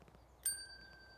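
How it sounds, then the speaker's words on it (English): A small bell tapped on a headstone in a graveyard gives a single sharp ding that rings on in a clear, slowly fading tone against a quiet background. "please do tap the bell"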